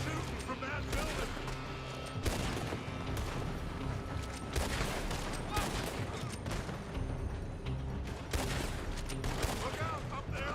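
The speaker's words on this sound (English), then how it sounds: "They're shooting from that building." Gunfire crackling from a building in Red Dead Redemption 2, repeated bursts of shots at moderate distance, some in rapid volleys, over a steady battle background.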